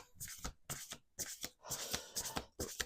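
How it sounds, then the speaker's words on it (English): Oracle cards are shuffled by hand in quick, crisp riffling bursts, about six close, quiet rustles spaced evenly apart, with no voices. "One more shuffle."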